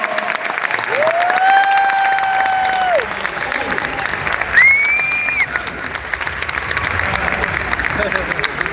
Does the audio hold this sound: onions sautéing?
no